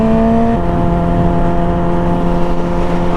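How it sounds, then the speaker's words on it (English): A loud, steady engine drone with a sustained high-pitched whine of tires spinning hard on a Yamaha motorcycle, running continuously without any voices. "You can hear the tires spin"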